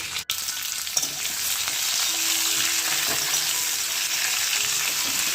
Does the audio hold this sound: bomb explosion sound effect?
no